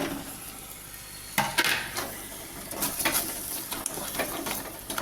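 Masala with a large grated tomato and fried potatoes cooks in a pan, giving a steady wet sizzle broken by intermittent scraping and clinks of a spoon against the metal.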